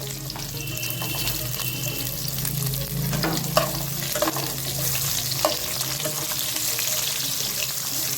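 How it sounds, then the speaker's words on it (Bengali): Chopped onions fry in a pan for doi chicken, a steady close sizzle with occasional stirring clatter and a faint water-tap hiss in the background. "পেঁয়াজটা অনেকটাই ভাজা হয়ে গেছে"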